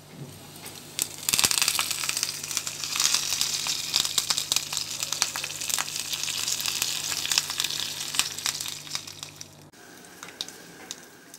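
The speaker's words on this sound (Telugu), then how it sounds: "ఒక కళాయిలో 3 టేబుల్ స్పూన్ ఆయిల్ వేసి ఎండుమిర్చి ఆవాలు జీలకర్ర వేసి వేగిన తర్వాత కొద్దిగా కరేపాకు ఇంగువను" Dried red chilies, mustard seeds and cumin crackle and sizzle in three tablespoons of hot oil in a kadai, a dense, steady spitting and popping that runs loud for about eight seconds before dropping off to a quieter hiss near the end.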